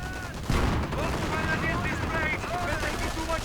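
Dense, sustained bursts of MG42 machine-gun fire rattle through a strategy video game battle, loud and continuous, with a commentator talking over the shooting.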